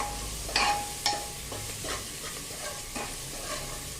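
Chopped onion sautéing in a pan for a Marathi potato curry, a steady soft sizzle under intermittent scraping strokes of the spoon, with a couple of sharper clinks near the start, close and moderate.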